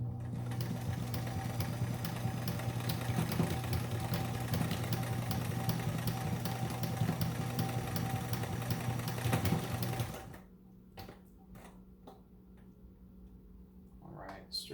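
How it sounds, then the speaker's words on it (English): Sewing machine bar tacking a ham radio antenna pouch, a fast steady mechanical whir for about ten seconds that then stops, followed by a few quiet clicks and handling sounds. "I'm going to set it up to bar tack again."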